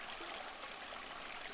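Calm flowing water from a stream runs as a steady, soft, continuous wash with no voices and no breaks.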